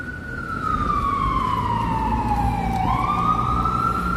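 An ambulance siren passes along a New York City street. Its loud wailing tone sweeps down and then climbs again over steady traffic rumble.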